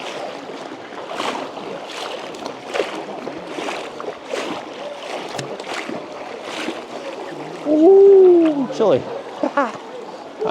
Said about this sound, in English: You're gonna be wading through some like waist deep water